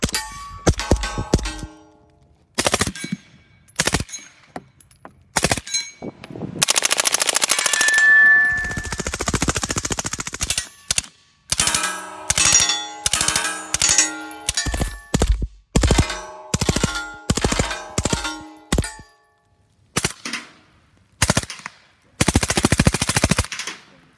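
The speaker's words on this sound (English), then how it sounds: "Watch this thing shooting, how quiet it is." Suppressed HK MP5 submachine gun firing in repeated bursts and single shots, sharp metallic clanks of the action standing out over a muted report, with short pauses between strings and a longer sustained run midway.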